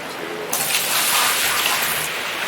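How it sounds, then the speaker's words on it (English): A single bucket fills and dumps water in the mining game Gold Rush, giving a loud, close rush and splash of water. It starts suddenly and then keeps pouring in a steady wash. "just start using this single bucket to fill and dump water"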